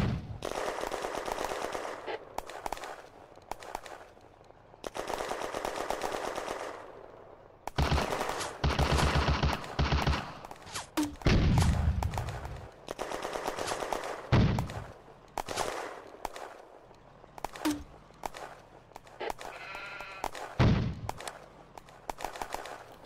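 Automatic weapon fire and scattered gunshots ring out in a Firefight video game battle set at Hill 112 in May 1940, with bursts of machine-gun fire and loud single shots coming in repeated waves across the whole stretch.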